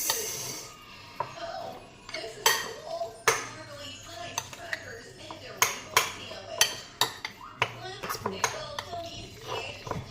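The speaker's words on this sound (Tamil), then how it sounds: "Giving it a mix, nice mix." A spoon clinks and scrapes around a bowl as a tofu and beetroot curd mixture is stirred, giving a run of sharp, close metallic taps and knocks, some in quick bursts, with a voice talking beneath.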